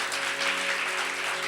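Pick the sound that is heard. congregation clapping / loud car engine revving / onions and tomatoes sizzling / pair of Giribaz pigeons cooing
congregation clapping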